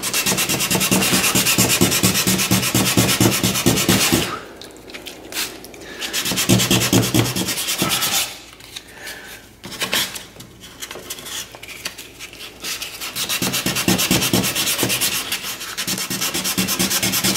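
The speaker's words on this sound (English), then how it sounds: "I'm just gonna get that by hand." Steady back-and-forth hand sanding of a car headlight lens with a sanding disc, scraping close by, with rapid rhythmic strokes, brief pauses and shifting pressure.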